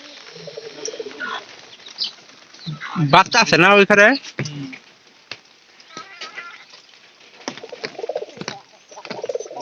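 Racing pigeons coo in the rain at a loft, soft murmuring calls running through the clip under people talking nearby, with one louder burst of calls around the middle.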